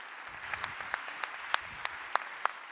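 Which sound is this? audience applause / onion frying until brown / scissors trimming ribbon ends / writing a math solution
audience applause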